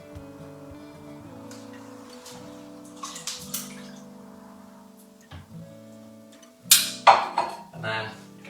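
Hot coffee poured over ice in a glass, a short splashing pour with crackle and clinks rising near the end over a low steady background hum.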